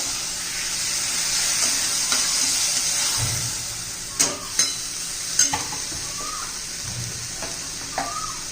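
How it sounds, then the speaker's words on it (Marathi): Cauliflower curry being stirred in a sizzling pan, with a steady frying hiss and a few distinct scraping clinks of the spoon against the pan, close and clear with no talk. "व्यवस्थित मिक्स करून घेऊया"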